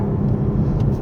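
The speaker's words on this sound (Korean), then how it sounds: "이렇게 스포츠를 넣었을 때 뭔가 좀 소리의 변화가 특히 배기 쪽에서 있는 것이 좀 느껴지거든요" A 2021 Toyota GR Supra 340 hp in sport mode gives a steady, deep exhaust drone with heavy low rumble, heard continuously from inside the cabin while driving.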